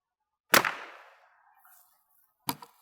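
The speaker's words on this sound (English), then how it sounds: "The next round up will be the normal speed 22 long rifle from Federal." A single sharp crack of a Federal .22 Long Rifle normal speed round fired close by, with a short ringing decay, followed two seconds later by a fainter impact snap.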